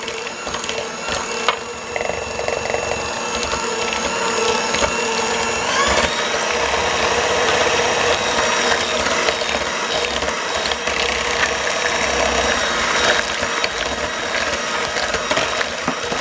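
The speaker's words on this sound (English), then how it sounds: "Add that packed light brown sugar with the mixer on medium speed" An electric mixer on medium speed beats butter and packed light brown sugar for brownie batter, a continuous loud whirring and rattling drone up close, with no voices.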